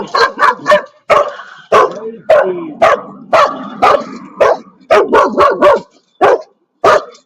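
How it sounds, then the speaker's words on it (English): A guard dog barks loudly and close by in irregular bursts, with sharp single barks and quick doubled ones separated by short pauses. "Nice guard dog."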